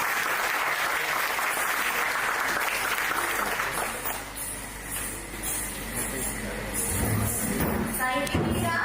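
Audience applause after a dance performance at a youth parliament event in Hanumakonda, dense and steady for several seconds, then thinning out as a voice begins speaking over the last few claps.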